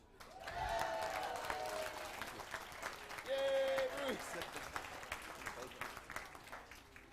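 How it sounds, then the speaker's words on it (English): A crowd at a corporate gathering applauds the founder, steady mid-level clapping with cheers and a loud voice over it, swelling briefly near the middle. "An applause for Bruce."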